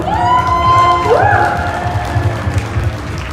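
A convention audience cheers, whoops and claps at a closing ceremony, a loud burst with high shouts and screams at the start that slowly eases into steadier applause.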